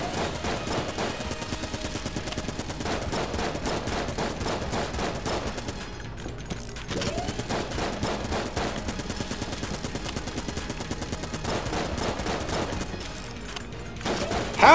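Constant rapid bullet fire in Enter the Gungeon chatters on almost without pause, dense clattering shots layered over game music, with brief lulls before the barrage resumes.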